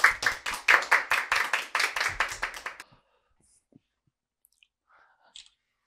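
Quick, rhythmic clapping from an audience at a Korean teacher-exam lecture welcoming a speaker lasts under three seconds, close and lively, then cuts off into near silence with a few faint rustles.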